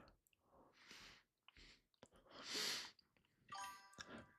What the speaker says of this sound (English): Can you hear all my chewing?